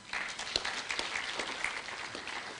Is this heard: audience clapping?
yes